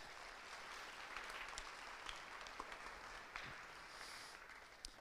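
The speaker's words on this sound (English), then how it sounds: "If we could give them a round of applause, please." A band concert audience applauds the festival staff, a faint, distant and even patter of many hands clapping that holds steady throughout.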